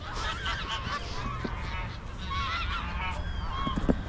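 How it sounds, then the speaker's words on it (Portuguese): A flock of geese at the lake of Granja Comary, a sports training center, honks loudly and continuously, many overlapping calls close by. "por que tem tanto ganso assim"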